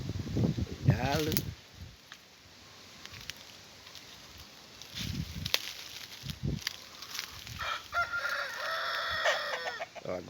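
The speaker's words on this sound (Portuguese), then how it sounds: "Ó, agora é o outro galo que cantou." On a rural smallholding where hens range free, a second rooster crows toward the end while hens cluck intermittently at moderate distance, with scattered farmyard noise in between.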